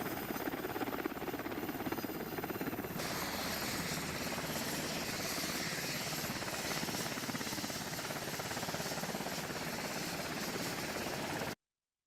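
A medical rescue helicopter drones steadily, with a continuous rotor and engine roar that stays loud and unbroken from start to finish before cutting off abruptly.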